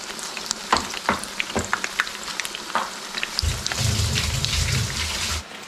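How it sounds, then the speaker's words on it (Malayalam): Chicken chilli bajji frying in hot oil, first a crackle of scattered pops and spits, then a steady, fuller sizzle as more oil bubbles up, close and moderately loud without speech. "അങ്ങനെ 2 എണ്ണം വെച്ച് നമുക്ക് ഫ്രൈ ചെയ്തെടുക്കാം."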